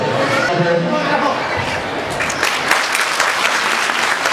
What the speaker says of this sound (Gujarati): સૌથી પહેલા એ તાળીઓના તાળ હોવા જોઈએ બધાનો